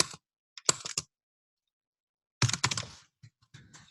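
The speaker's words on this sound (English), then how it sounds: "So you type in the client's name." Bursts of typing on a computer keyboard entering a client's name into an insurance illustration form, short clusters of close, crisp key clicks separated by silence.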